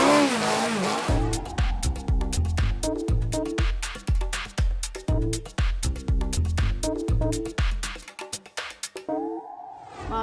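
A classic car at a concours d'elegance event is revved hard in a fast series of sharp, loud throttle blips with deep, punchy bursts and short gaps, then it cuts out abruptly near the end.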